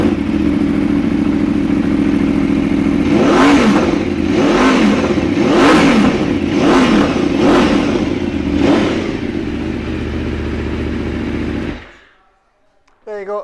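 A 2018 Aprilia Tuono 1100 V4 Factory motorcycle engine idles, then revs sharply five times in a steady rhythm before settling and cutting off abruptly, loud and close.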